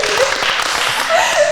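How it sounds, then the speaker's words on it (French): A game-show audience applauding a correct answer, with dense, steady clapping from many hands throughout the short moment. "Bonne réponse, on applaudit pour elle."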